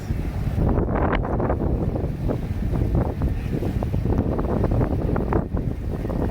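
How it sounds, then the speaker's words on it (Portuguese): Wind buffeting the microphone during a small boat ride on the water, a loud continuous rumbling roar with gusty bursts and faint sounds of the boat and water beneath it. "Agora o vento tá mais gostoso."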